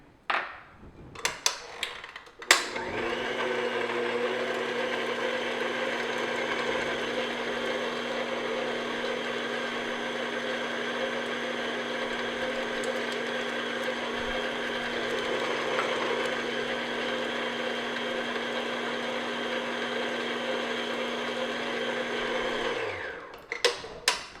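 Electric mixer beating eggs one at a time into sugar cookie batter, a steady whirring motor hum running for about twenty seconds after a few clicks, then switching off.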